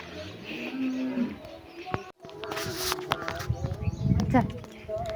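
A cow lowing at milking time, a close moo among shuffling hooves and farmyard bustle, with people talking over it.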